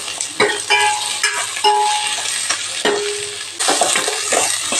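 Onions and tomatoes sauté in a pan with oil, a close sizzle punctuated by irregular scrapes and clinks of a spoon against the metal, with no voices.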